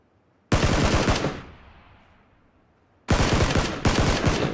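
Rifle fire in PlayerUnknown's Battlegrounds comes as a loud close burst of rapid automatic shots, a fading echo tail, then two more quick bursts, with no talking.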